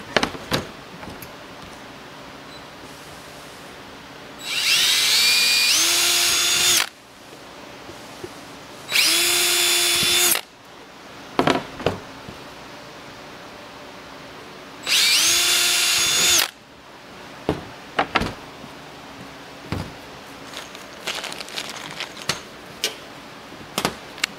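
A power drill countersinking holes in homemade germination weight panels for microgreens, with three loud sustained whirring bursts separated by pauses filled with clicks, taps and handling noise.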